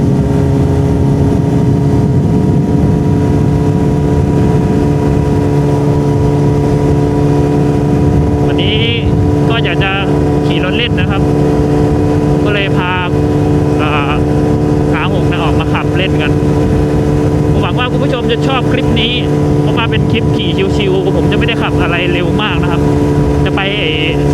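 A Yamaha R6 sport motorcycle engine drones steadily while riding on a rough road, a loud continuous hum with wind rush throughout, and someone talks over it in places.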